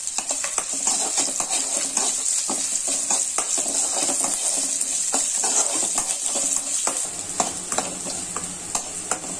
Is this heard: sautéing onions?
yes